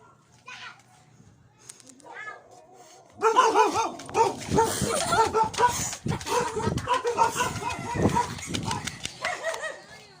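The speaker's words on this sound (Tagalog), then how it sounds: "permi kami magkikita ng mga aso" Dogs barking amid children playing and people talking, several loud close barks and a whimper mixed into lively chatter after a quieter start.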